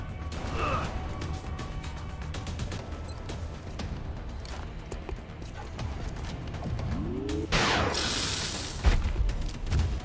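Gunfire and explosions in the XCOM Enemy Within video game: a dense, continuous mechanical clatter of combat sounds with a heavy booming burst near the end, loud and close with no talk over it.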